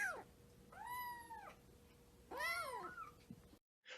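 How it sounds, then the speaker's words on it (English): A cat meows loudly three times, a short cry, then a longer drawn-out meow, then a higher wavering one, close up with quiet pauses between and no talking. "Kind of like this kitty cat."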